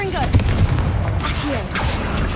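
Confringo blasting spell explosions in the Hogwarts Legacy video game, several sharp booming bursts with whooshing streaks in a busy battle mix, loud and close, with voices briefly present.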